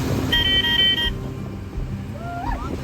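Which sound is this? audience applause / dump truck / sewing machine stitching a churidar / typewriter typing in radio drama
dump truck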